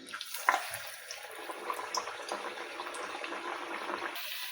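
Nippattu rice crackers drop into hot oil and fry with a soft, fizzing bubble and crackle that stays faint and even throughout, with a small pop near the start.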